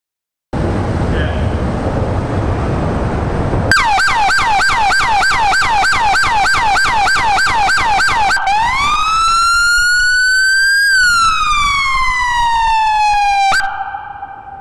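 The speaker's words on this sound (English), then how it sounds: "LT is gonna hit the siren" A police car siren sounds loud and close, starting with a rapid repeating yelp, then a long rising and falling wail, and ending with a short steady tone.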